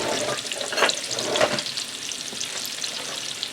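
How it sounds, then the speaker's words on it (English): Shallot sautéing in hot oil in a pan on high heat, a steady crackling sizzle with a few brighter pops, continuous and close with no voices. "I'm going to saute my shallot here just for a minute in the oil"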